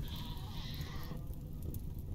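A goat in the video game RimWorld gives a single drawn-out bleat over a steady low background hum, with no talking.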